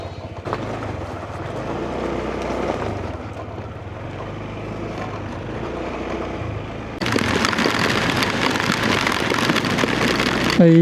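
Steady rain hiss builds into a louder, heavier downpour partway through, with a low rumbling background throughout.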